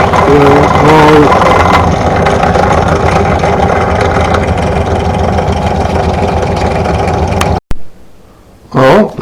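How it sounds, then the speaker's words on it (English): A small oscillating steam engine runs steadily through a steam test, a continuous mechanical chugging that holds loud and close before cutting off abruptly near the end, followed by a brief burst of another sound. "Oh, there's my little oscillating engine."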